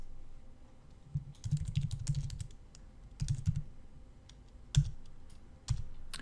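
Keys on a computer keyboard are struck while mind-mapping software is in use. Short bursts of close typing alternate with pauses, and single sharper Enter-key presses stand out near the end.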